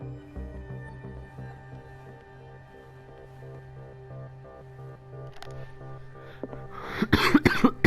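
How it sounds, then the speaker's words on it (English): Several short, loud coughs burst out near the end, following a stretch of quiet, steady low hum and background drone during a psychological horror game. "I coughed."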